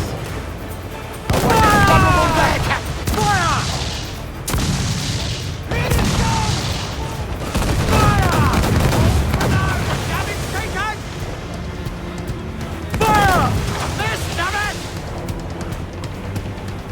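Booming ship cannon fire and crashing waves during a naval battle in Assassin's Creed IV: Black Flag, with loud repeated blasts under shouted crew commands and wind.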